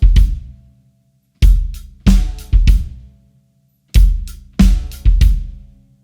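A beginner's rock drum beat on an acoustic kit with sharp kick and snare hits ringing out, played twice in a sparse two-bar pattern that adds an extra sixteenth-note kick on beat two, loud and clean without talk.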